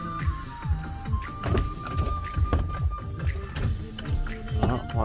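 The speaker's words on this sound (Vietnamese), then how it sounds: "Đó, chỉnh gương đó các bác." The electric side mirror motor on a 2008 Toyota Innova G whirs as a thin, steady whine, with faint tapping and clicking under it.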